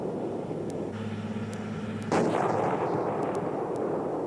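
The 120mm main gun of an M1A1 Abrams tank fires once in a deep, heavy boom partway through, followed by a rolling rumble. A lower engine-like drone runs underneath beforehand.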